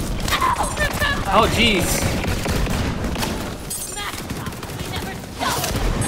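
Borderlands 3 gunfire crackles in bursts through dense game action with music, a fairly loud steady barrage under brief spoken exclamations.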